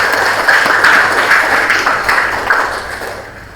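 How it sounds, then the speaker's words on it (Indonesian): Classroom applause from students during a teaching-practice lesson, a short burst of scattered clapping that stays fairly steady, then thins and fades toward the end. "Terima kasih, tepuk tangan."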